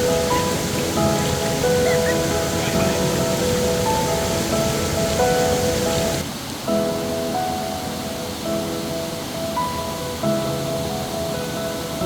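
Oliyathumpara waterfall pours steadily, a dense, loud rush of falling and flowing water that fills the whole stretch, easing slightly partway through, with no voices.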